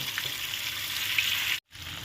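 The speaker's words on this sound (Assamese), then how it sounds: "এতিয়া মই কম জুইত মাছ কেইপিচ 2 চাইডে ৰঙচুৱা পৰালৈকে ভাজি দিম" Pieces of fish sizzle in mustard oil in a pan over a low flame: a steady, close hiss that drops out briefly near the end, then resumes.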